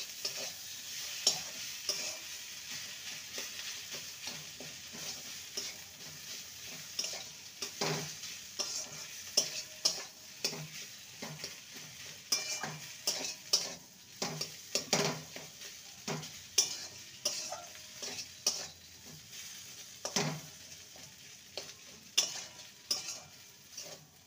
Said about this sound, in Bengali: এবার ভালো করে পুরের সঙ্গে মশলার সাথে মিশিয়ে নেব।